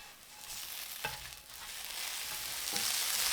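Noodles frying in vegetable oil and sesame oil in a pan, a bright steady sizzle that grows louder, with a couple of stirring or flipping scrapes, close up and without talking.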